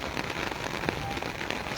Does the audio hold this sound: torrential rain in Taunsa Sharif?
yes